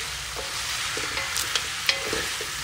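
A spoon stirs boiled pork leg in a pot, giving soft scraping and light clinks over a steady bubbling simmer, close up with no talking.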